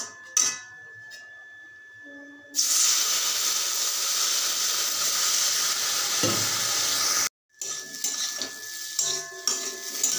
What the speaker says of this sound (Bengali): তো চলো এবার একটুখানি জল দিয়ে দেবো, যাতে আলুগুলো সিদ্ধ হয়ে যায়